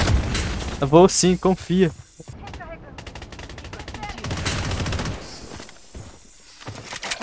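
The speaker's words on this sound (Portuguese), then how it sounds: "É, tá até dois caras me atirando." Enemy gunfire in the Blood Strike video game, with a loud burst of rapid shots followed by sharper scattered reports and fainter firing, while someone speaks briefly over it.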